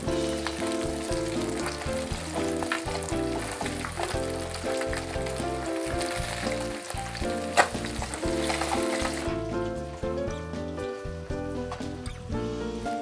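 Catfish pieces sizzle and crackle in hot frying oil in a pan, a dense steady spatter close up, with scraping and knocking as they are turned over.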